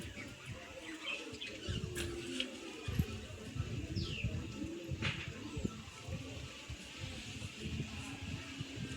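Small birds, likely sparrows, chirp around an old cage being rebuilt, with coo-like calls mixed into a busy outdoor background of rustling and faint voices.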